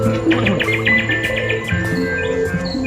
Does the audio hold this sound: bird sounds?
yes